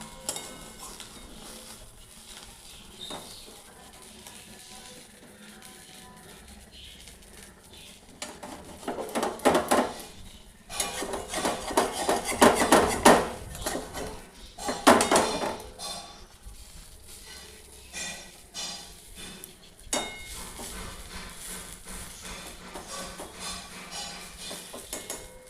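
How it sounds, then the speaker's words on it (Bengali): Fritters in a pan over a low gas flame are turned with a metal utensil. Sparse scrapes give way to clustered clatters and knocks against the pan midway, over a faint ongoing sizzle. "এবার আমি এটাকে উল্টে দেবো একটু"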